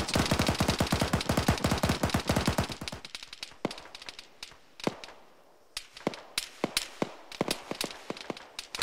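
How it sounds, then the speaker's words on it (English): Gunfire in the Arma 3 military shooter: a rapid automatic burst of closely spaced shots, then scattered single and clustered cracks with loud, sharp transients at varying distances. "Not appreciating getting shot at right now."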